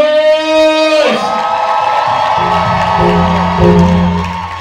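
Crowd cheering and whooping at a live event, rising loudly after a single voice and staying strong throughout, with scattered shouts over a broad wash of applause.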